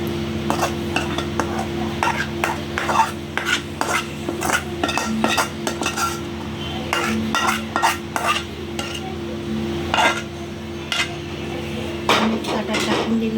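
Cooked food scraped from a pan onto an oiled plate with the gas turned off, a busy run of close metal scrapes, clinks and knocks of utensils against cookware over a faint hum, no speech.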